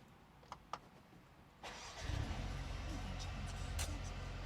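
A Mercedes A35 AMG starts up after a couple of soft clicks: the starter catches at about two seconds and the engine settles into a steady low idle, heard from inside the car at moderate level.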